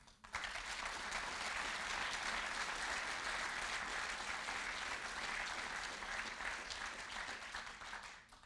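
Dense, steady applause from a crowd at a German political campaign rally, a continuous wash of many hands clapping that swells in quickly, holds evenly for several seconds, then tapers at the end.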